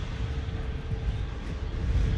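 An Airbus A321neo jet engine spools up close by at Phoenix Sky Harbor airport, giving a steady, broad, rumbling roar like rushing wind that holds evenly throughout.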